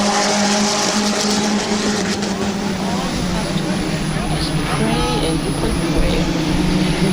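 Race cars roar around the oval at Midvale Speedway, a loud continuous engine drone rising and falling as cars pass, with an announcer talking over it throughout.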